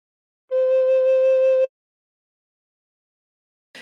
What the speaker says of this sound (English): Keeping the thumb hole covered, put finger 2 on hole 2 and blow once.